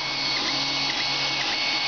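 A Creality Ender 3 3D printer printing yellow brittle PLA at 185C hums and whines steadily up close, with stepper motor tones shifting pitch as the head moves.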